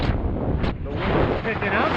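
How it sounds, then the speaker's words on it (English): Wind gusting hard across an open microphone in an open area near a shooting range and fairgrounds while out on a 2017 Honda XR650L dual-sport motorcycle, a steady loud rumbling buffet throughout. "the wind is picking up."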